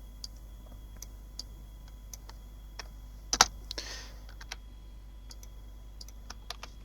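Keys clack on a computer keyboard while a word is typed in Photoshop, scattered quiet clicks with one louder cluster midway, close and alone.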